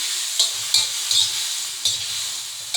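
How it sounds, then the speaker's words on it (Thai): Squid and mushrooms stir-fry in a hot pan for a Thai basil dish, a steady bright sizzle broken by several sharp scraping strokes of a spatula at a fairly even rhythm, close and loud with no talking. "ผัดเห็ดกับปลาหมึก"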